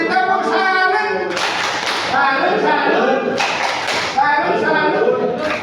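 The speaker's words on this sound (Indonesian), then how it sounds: "Kita beri tepuk salut." Group clapping in a rhythmic patterned salute during a classroom quiz about surveying instruments, loud bursts of claps mixed with voices chanting and talking.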